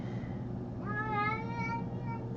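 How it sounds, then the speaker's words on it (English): A single drawn-out cat meow, clear and fairly close, over a quiet room hum. "What do you want, kitty?"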